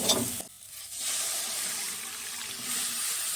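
Dal is tipped into frying spice masala in a pan, a sudden wet splash followed by a steady close sizzle and hiss as it is stirred.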